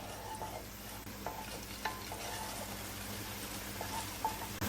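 Chopped tomatoes sizzle gently in a pan while a utensil scrapes and stirs them in a few distinct strokes, over a low steady hiss; fairly quiet and close, with no voices.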